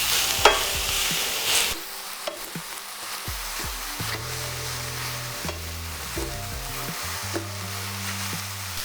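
Mushrooms and onion cook over medium heat in a pan, giving a soft continuous sizzle broken by repeated scraping stirs of a utensil. No one speaks.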